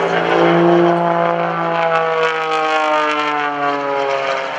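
A 310-horsepower aerobatic propeller airplane climbs at an airshow over Greenwood Lake, its engine a loud, steady drone with a strong tone that slowly falls in pitch as it pulls away, heard alone.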